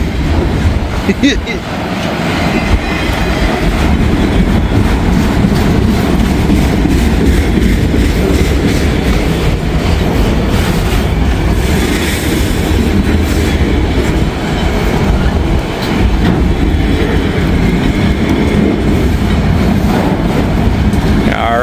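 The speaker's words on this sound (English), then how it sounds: "Here comes the end of the train, rolling over the flaps and sensors for the defect detector." A freight train rolls past close by, loud steady clatter of wheels over the rails and over defect detector sensors, with rhythmic clicks and occasional squeal, continuous throughout.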